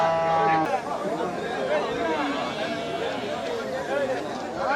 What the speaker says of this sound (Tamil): இல்லை இது காங்கேயத்து கண்ணுக்குட்டி